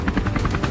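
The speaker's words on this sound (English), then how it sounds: "By taking control of the skies from a helicopter" A helicopter is flying overhead on a mountainside farm, its rotor giving a steady, rapid thumping pulse at close range, loud and alone with no voices.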